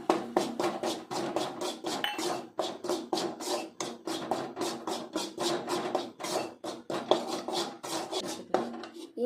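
Wheat flour roasting in a pan, stirred with a utensil that scrapes and clinks against the metal in a steady, busy rhythm of close, moderately loud strokes with no talk.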